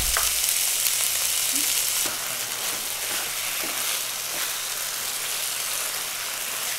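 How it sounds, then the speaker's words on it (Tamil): Chicken Manchurian stirred in a pan after soy sauce and chilli sauce go in, a loud continuous sizzle close up with a few scraping stirs, and the hiss eases a little after the first couple of seconds. "அடுத்தது சோயா சாஸ், சில்லி சாஸையும் போட்டு நல்லா கிளறி விடணுங்க"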